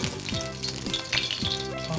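Yellow croaker pan-frying in a pan, a steady loud sizzle and crackle running throughout, with no talk.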